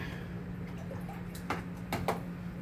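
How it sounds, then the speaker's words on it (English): A soft paintbrush is rinsed in water, making a few close, quiet swishes and drips in quick succession over a faint steady hum. "I'm going to wash my paintbrush out."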